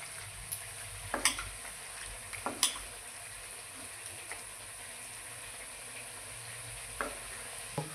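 Onion frying with ginger-garlic paste and coriander gives a steady, soft sizzle. Occasional sharp scrapes and clinks from stirring break in every few seconds, close by and with no talk.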